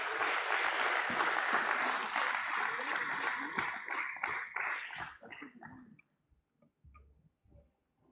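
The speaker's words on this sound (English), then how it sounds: "Let's welcome him with a round of applause." An audience at an IPO listing ceremony for Uniparts India Ltd applauds a speaker taking the stage, dense clapping that thins into scattered claps and then silence.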